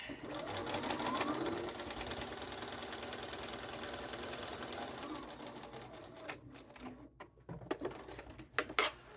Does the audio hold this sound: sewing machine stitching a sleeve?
yes